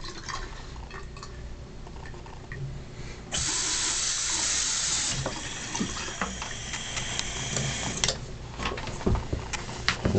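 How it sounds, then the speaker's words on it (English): Water runs from a bathroom tap to rinse a razor during shaving, starting after a quiet spell as a loud, steady gush. It eases after a few seconds and stops near the end, followed by small clinks and handling sounds. "Now rinse it off a little bit. Rinse off your razor."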